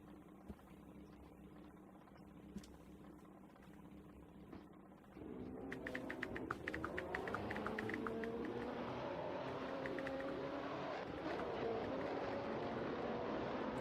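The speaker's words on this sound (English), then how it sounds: "As you can hear, the engine's revving." Race car engines revving on the grid at Interlagos in a racing video game, a continuous loud engine drone that swells sharply midway, with rising and falling rev tones layered over steady engine roar.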